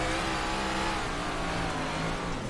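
In-car sound of a Big Block Modified dirt race car at Port Royal heading into a turn, a loud continuous engine roar with rough harmonic growl and slight dips in pitch, close and unbroken.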